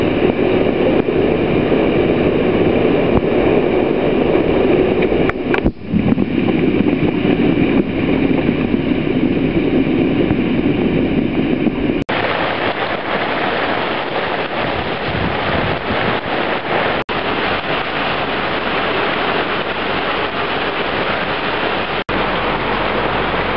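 A rain storm front arrives over Jonesville, Roatan as a loud, continuous roar of wind and rain, with a few sharp knocks and a slight change in texture partway through.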